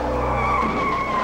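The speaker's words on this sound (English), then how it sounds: "Why are these officers deliberately crashing into each other?" Police cars in pit maneuver training skid hard, with a loud, sustained tire squeal and engine roar that hold steady from start to finish.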